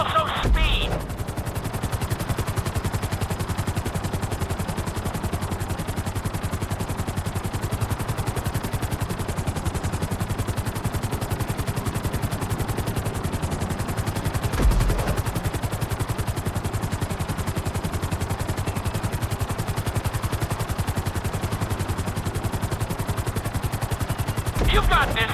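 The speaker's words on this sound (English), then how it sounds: "we'll see how well you handle the chopper" Helicopter flying through a marked course in the GTA 5 flight school mission, a steady loud rotor and engine drone running throughout with constant level, mixed with game noise and brief bursts near the start, middle and end.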